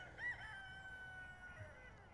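A rooster crows once, a drawn-out call heard from a moderate distance over a low outdoor rumble.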